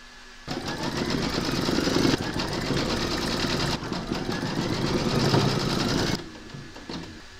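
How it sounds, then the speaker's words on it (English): An embroidery sewing machine stitches a round on a hooped quilt block, its rapid mechanical needle chatter running in two long bursts with a brief pause between, close and steady, then stopping before the end. "Pop your hoop into your machine and stitch round number 15 to secure it."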